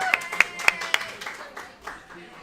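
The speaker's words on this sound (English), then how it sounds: "I would love for you to give a round of applause to Caitlyn Guilfoil as well as Coach Caity Hamilton" A brief, sparse round of applause from a small audience for a girls' lacrosse player and her coach, a few distinct claps followed by softer scattered clapping fading out.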